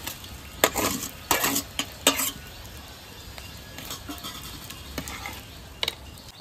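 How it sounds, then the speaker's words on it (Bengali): Prawns hitting a hot pan and being stirred, with scattered scraping clatters and a soft sizzle running underneath, the sharp metallic strikes bunched early and then thinning out. "এবার চিংড়ি মাছটাও দিয়ে দেবো।"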